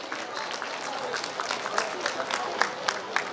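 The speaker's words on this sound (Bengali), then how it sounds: "তাদের জন্য একটা হাততালি দেওয়া হোক।" An audience at a souvenir-unveiling function breaks into steady applause, a dense patter of many hands clapping with a few louder claps standing out, with faint voices underneath.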